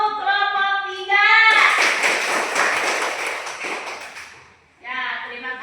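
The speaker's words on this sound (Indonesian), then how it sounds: "Silakan beri tepuk untuk kelompok 3." Students in a classroom give a group a short round of clapping that rises, holds and fades away, with voices speaking before and after it.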